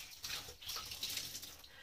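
A clay face mask is rinsed off with a cosmetic sponge and water, giving a soft, steady splashing and trickling close by and fairly quiet, with no voices.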